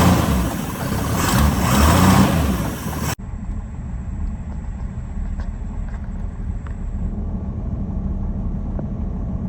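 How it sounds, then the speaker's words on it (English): A Ford Ranchero engine runs with a loud, rough rumble for a few seconds before cutting abruptly to a quieter, steady background drone. "I decided to start the Ranchero up since it hadn't been started in a couple weeks"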